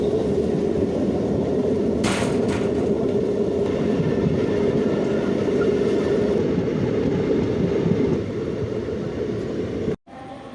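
Passenger train on the Shoranur Junction to Nilambur Road line, heard from onboard as a loud, steady rumble and hum of running wheels and carriages, with a brief hiss and an abrupt cut near the end.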